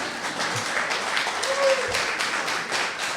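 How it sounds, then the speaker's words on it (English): An audience applauds a speaker at a talk, a steady wash of many hands clapping at moderate volume throughout, with a faint voice and a few taps mixed in. "See, you applaud."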